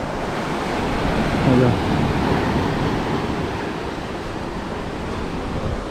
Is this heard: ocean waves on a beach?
yes